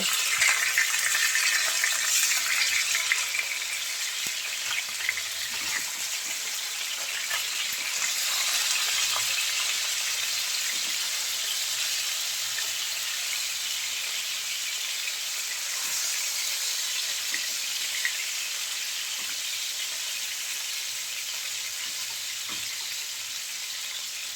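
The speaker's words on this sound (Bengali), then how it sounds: "মাছের এক পাশ ভেজে নিয়ে এখন উল্টেও অপর পাশটাও ভেজে নেব" Pieces of katla fish, rubbed with turmeric and salt, fry in hot oil in a pan, giving a continuous loud bright sizzle that eases slightly over time, with no talking.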